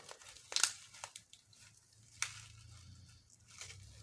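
Quiet crinkling and tearing of packaging, with a few sharper rips and rustles spaced irregularly, close by and fairly faint.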